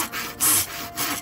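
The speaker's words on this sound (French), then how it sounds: "il en scie un morceau" A handsaw cuts into a wooden palace column, giving a few close, rasping back-and-forth strokes of wood sawing over about a second.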